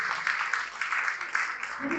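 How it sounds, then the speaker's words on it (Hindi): Audience members at a retirement programme for a Kalisindh Thermal Power Plant engineer applaud together, producing a sustained, evenly textured clapping that continues without pause at a moderate level. "अगर आप एग्री करते तो एक बात तालियां तो बजा ही सकते हैं"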